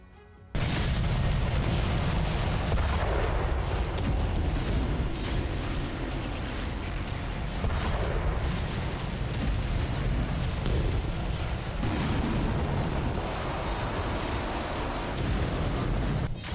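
Heavy Russian weapon explosions boom one after another over a constant roaring rumble, loud and sustained for over fifteen seconds.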